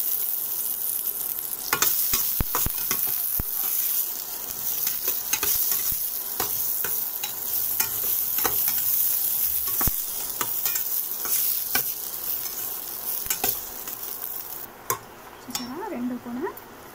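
Raisins fry in a pan with a continuous sizzle and frequent clicking, scraping strokes of a spoon against the metal, close and fairly busy, with a faint voice briefly near the end.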